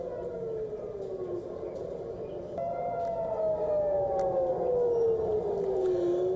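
Air raid sirens wail in the port city of Eilat during a missile and drone attack, their long tones sliding slowly up and down. The sirens are moderately loud over a dull background hum.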